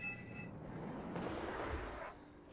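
Cannon fire in the war strategy game Wargame Red Dragon, one heavy booming report that rolls out into a sustained rumble and then cuts off, with no talk over it.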